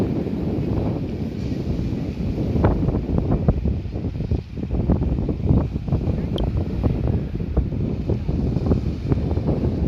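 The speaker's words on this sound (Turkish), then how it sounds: "dalgalı bir deniz." Wind gusts buffet the microphone on Dikili beach beside a wavy sea, with surf washing and rumbling underneath in a loud, continuous, uneven roar.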